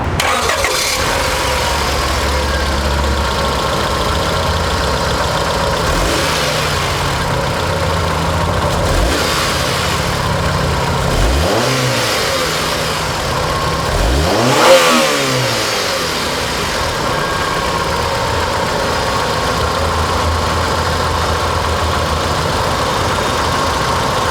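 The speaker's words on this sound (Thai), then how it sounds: "มาฟังเสียงเครื่องยนต์" A Honda Accord fourth-generation car engine runs steadily at a loud idle, rising in a few revving surges before settling back, with no one talking.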